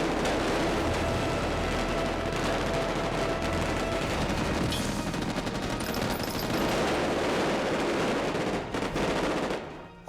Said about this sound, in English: we use a paintball gun that shoots zirconium balls